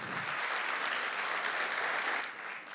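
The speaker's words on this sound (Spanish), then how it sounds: "ese aplauso que le dimos a Juan Miguel, repítanlo, pero para ustedes mismos" Audience applause for banana producers at an agricultural event: a full crowd clapping continuously, dense and even, fairly faint and distant, easing slightly at the end.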